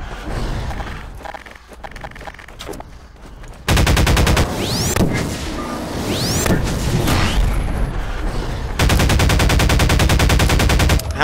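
Rapid bursts of automatic weapon fire in Garry's Mod, loud and dense, with brief lulls between sustained volleys and sharp booming impacts mixed in.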